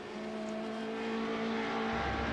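A Radical race car's engine at Road Atlanta drones loudly and steadily at high revs, a continuous close onboard roar with a slight shift near the end.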